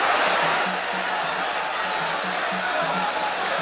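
A huge crowd of about 17,000 at a boxing match in Lubriel Stadium, Bayamon, Puerto Rico, roars in a dense, continuous wash of cheering that stays level throughout, with some rhythmic chanting under it.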